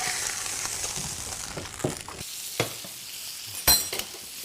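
Steaks fry in olive oil with thyme and garlic in a hot pan, giving a steady, close sizzle. A few sharp utensil clatters and scrapes sound as the meat is stirred and handled.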